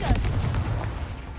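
A Confringo fire spell in Hogwarts Legacy goes off as a sharp, close blast with a short fiery crackle and rumble that fades over about a second.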